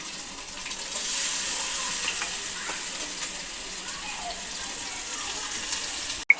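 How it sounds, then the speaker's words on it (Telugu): Chillies and tomatoes fry in a pan with a steady broad hiss and sizzle that holds unbroken for several seconds, with a brief clatter near the end. "ఇప్పుడైతే ఇవి మొత్తం ఫ్రై కావాలి."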